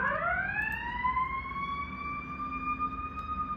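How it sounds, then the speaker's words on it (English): A wailing siren with rising and falling tones holds steady and loud over a low rumble of traffic, without pause, for the whole stretch. "that's the ambulance."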